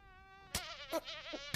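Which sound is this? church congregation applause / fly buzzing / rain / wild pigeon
fly buzzing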